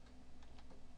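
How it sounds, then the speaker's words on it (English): Brief run of computer keyboard typing, a few quick soft key clicks close by against a faint steady background hum. "Type it right here."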